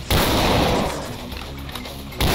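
Gunfire in the shooter game Doom 2 with the Project Brutality mod, on MAP06 Nuclear Power Plant, a couple of heavy booming shots with a rumbling tail, loud and close.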